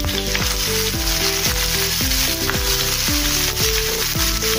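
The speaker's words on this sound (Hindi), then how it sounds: "अभी हम प्याज डालेंगे।" Onion drops into hot oil already crackling with mustard seeds and cumin for a bitter gourd dish, setting off a loud, continuous close-up sizzle, with tonal music running underneath.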